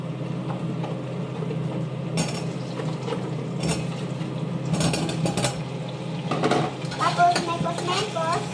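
A spoon stirs cauliflower simmering in tomato sauce in a cooking pot, making steady scraping and clinking against the metal with a few sharper knocks, close and moderately loud over a low background hum.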